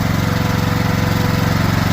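Small engine of a Trail King hydraulic power unit, with choke, gas and throttle set, running at a steady, loud, rapid chug close by, continuous and without voices.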